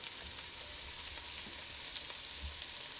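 Onions and garlic sizzle steadily in a pan for a marinara sauce, a soft continuous frying hiss with faint crackles and no talking.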